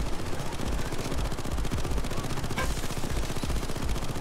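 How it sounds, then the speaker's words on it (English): Rapid automatic fire from a sentry gun in the video game Payday 2, a dense, steady rattle of shots running throughout at loud, close range with no talking. "Oh, that's what the noise was, the sentry."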